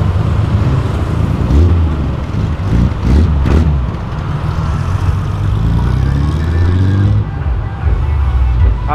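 A modified Volkswagen Gol pulls away from a gas station to circle the block, its engine rumbling loud and near, rising and passing with surrounding traffic noise and brief voices.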